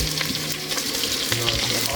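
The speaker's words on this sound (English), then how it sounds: "Right now I'm browning the oxtail" Oxtail browns in a hot pan with a loud, steady sizzle and crackle, and the odd stir or scrape against the pan, heard up close.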